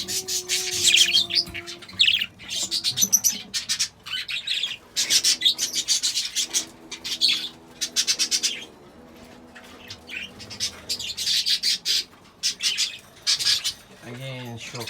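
Young budgie chicks chirping and squawking close by in dense, rasping bursts with brief pauses, some calls rising into thin tonal cheeps, loud and continuous through the whole stretch.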